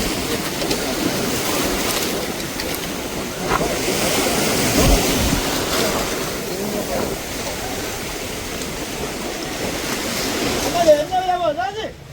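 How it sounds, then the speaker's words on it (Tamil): Boat coming in to Mathagal beach at midnight, with steady surf and wind noise throughout, a low engine drone blending into the wash of waves, and a person speaking near the end. "அடுத்த போட் வந்துட்டு பாருங்க, அடுத்த போட் வந்துட்டு, அடுத்த போட் 4வது போட்டா"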